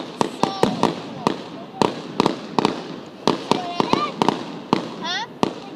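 Fireworks pop and crack in a rapid, irregular string of sharp bursts, some with brief whistling, close and loud while people talk and react in between.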